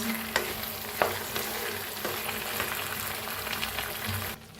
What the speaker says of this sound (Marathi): आता गॅस कमी करून एक मिनिटभर असं जरा फिरवून घेऊया